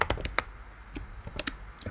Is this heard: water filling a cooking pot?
no